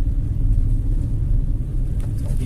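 A car pulls away and accelerates at low speed during a driving lesson, its engine a steady, close low rumble with no sharp revving, heard alone without talk.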